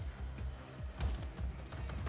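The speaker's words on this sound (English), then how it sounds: "let's get back to the explosions." Rapid bursts of gunfire and blasts from the open-world video game Just Cause 4 crackle in quick succession, with a louder explosive hit about midway through.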